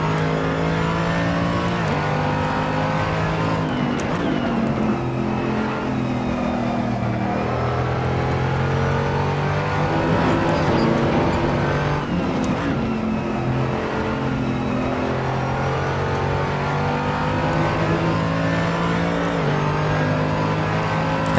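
A car lapping a racetrack at moderate, consistent pace, the engine droning loudly inside the cabin with rising and falling pitch as it accelerates and shifts through the laps, with no talking.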